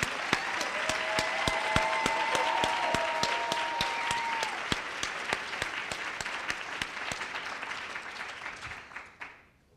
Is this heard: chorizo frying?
no